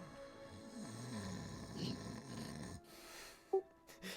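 A player in a role-playing game session uses their voice to imitate an elf snoring, with a low, drawn-out rumbling breath that stops abruptly and is followed by a brief click and faint noise.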